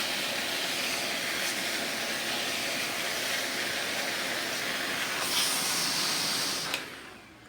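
A vacuum cleaner runs continuously with a steady, loud broadband hiss and whoosh up close, a brief shift near the end before the motor cuts off; no one speaks.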